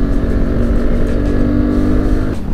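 Loud motorcycle exhaust during a group ride, a close, throaty drone that holds for about two seconds, then dips briefly at the end.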